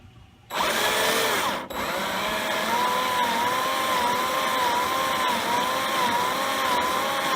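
A power drill cuts threads for a door bolt on a Ford F150. It starts abruptly, falters once, then runs as a steady, close, whining drone with slight wavering pitch throughout.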